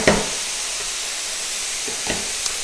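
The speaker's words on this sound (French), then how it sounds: "on va colorer le lard comme ceci" Bacon lardons browning in a pan give off a steady, close sizzle and hiss, broken by a couple of faint clinks of a utensil.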